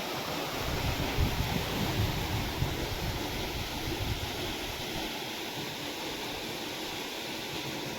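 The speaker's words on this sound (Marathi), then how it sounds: "आपण सौर पंप चालू केला आहे तर पाणी किती मारतो" A steady, loud, continuous rush of water gushes from an Ecozen 5 HP solar pump drawing from a roughly 80-foot well, a close, unbroken torrent with no talking.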